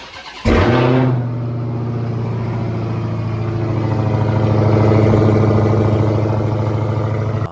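A Dodge Challenger Hellcat cold-starts with a loud cranking burst, then settles into a deep, rumbling high idle that swells slightly, close and steady, with no voices.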